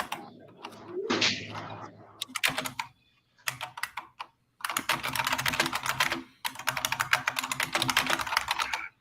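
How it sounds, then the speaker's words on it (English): Rapid typing on an old-style computer keyboard, with loud, clacky keystrokes in dense bursts separated by short pauses, heard up close. "it's the keyboard. It's one of those old style"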